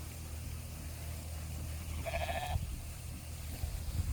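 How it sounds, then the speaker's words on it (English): Ewes and goats bleat in a farm paddock, with one clear bleat standing out midway over a steady background of outdoor noise and low rumble. "What a beautiful group of ewes, though. And the goats are over here."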